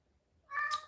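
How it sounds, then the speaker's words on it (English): A pet cat gives one short, fairly loud meow right at the end, after a near-silent start. "I do have a very vocal kitty"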